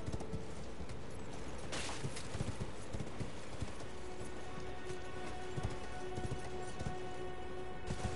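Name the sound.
horse hooves clip-clopping in video game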